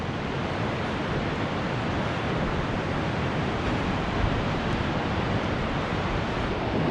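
Ritchie Falls on the Orange River pours as a constant, dense rushing roar that stays even and unbroken throughout, with no voices.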